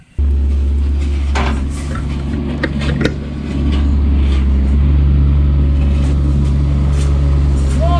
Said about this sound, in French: je prends la voiture parce que j'emmène quelques outils